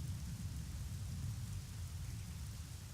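Steady rain with low rolling thunder at Lake Hylia in the video game Zelda: Ocarina of Time 3D, a dense, constant wash of downpour with deep rumbling underneath and no voices.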